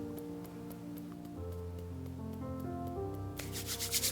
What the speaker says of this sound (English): Rub your hands. Rub your hands again.